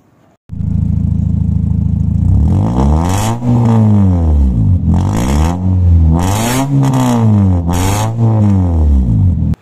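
A third-generation Toyota Vios Limo with a loud aftermarket exhaust revs repeatedly up close, the throaty roar climbing and dropping in a steady series of blips.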